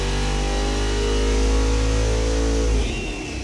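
A car engine on a dyno revs hard toward 6,500 RPM in a loud, steady high-pitched roar, then drops sharply as the run ends.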